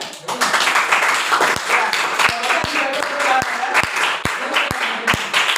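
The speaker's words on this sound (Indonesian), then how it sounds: "Wah, tepuk tangan." Schoolchildren applauding in a computer class, many hands clapping at once with several distinct sharp claps standing out, voices chattering underneath the whole time.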